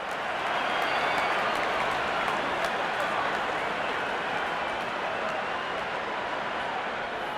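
A large crowd at an India versus Pakistan cricket match cheers and applauds in a dense, continuous roar, with commentary speech running over it.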